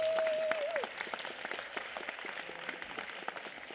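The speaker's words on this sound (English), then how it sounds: "Please give them a round of applause." Applause from an audience at a Los Angeles County Board of Supervisors meeting, steady dense clapping filling the room for several seconds, with a brief tone at the start.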